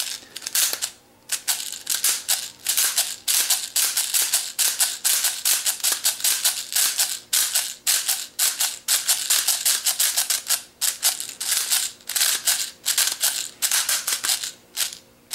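An airsoft G36C rifle fires BBs in rapid, continuous bursts of sharp clicking shots with a few short pauses, close and loud, with no one talking over it.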